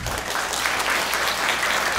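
Audience clapping steadily at a technology and teaching leadership forum, a dense, even wash of hands from a seated crowd with no pauses and no voices.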